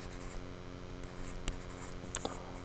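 Pen or marker writing graph labels for supply and demand curves, a continuous close scratching with a few sharper strokes over a steady background hum.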